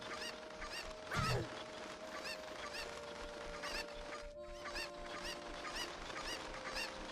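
Cuccos in the N64 game Ocarina of Time squawk in a repeated run of sharp honking cries, one louder burst early on, over a constant musical backdrop.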